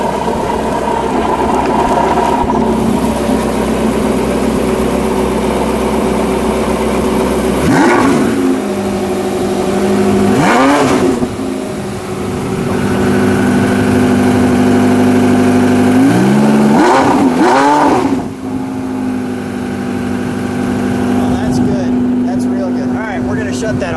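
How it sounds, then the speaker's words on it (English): Acid green 2015 Porsche 918 Spyder with Weissach Package and a V8 engine, heard close and loud as a steady idle drone broken by several sharp rising revs with falling tails, while people talk nearby. "This is your sports, which will start up your V8 now."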